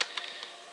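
A computer keyboard is typed on in a quiet room, a few faint separate key clicks spread across less than a second.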